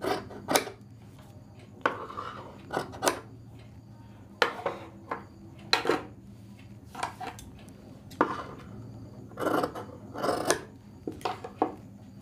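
Scissors snipping through shirt fabric as the back panel is cut, a series of short crisp cuts and rasping slides at irregular intervals, close and fairly quiet with no talking.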